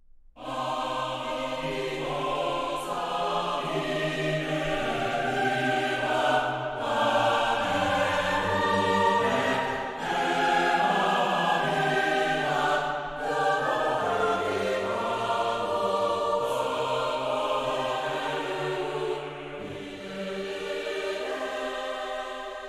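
A sampled male choir sings sustained syllables in low voices, a continuous, full blend shifting pitch slowly over about twenty seconds with no gaps.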